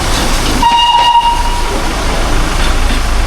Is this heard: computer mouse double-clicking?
no